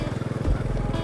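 A motorbike engine labours in first gear through deep sand, a steady low pulsing throb that deepens and swells midway, close and continuous.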